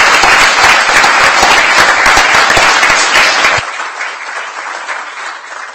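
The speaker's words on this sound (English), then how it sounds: "can we all give a round of applause for the kids at Pontnewydd School?" Council members at a council meeting give a loud round of applause for the kids at Pontnewydd School, dense clapping that cuts off sharply after about three and a half seconds, leaving quiet room tone.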